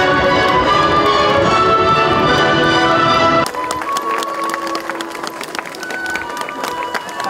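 Huge crowd gathered at the Ukraine–Slovakia border crossing, a loud sustained murmur of voices and movement that drops to a quieter bustle with scattered taps and claps partway through.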